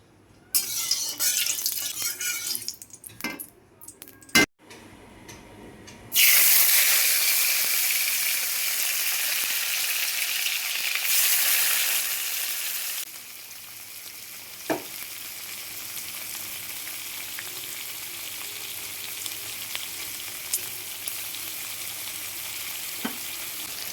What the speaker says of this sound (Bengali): একদিকে দেখলে মাছ ভাজা শুরু করে দিয়েছি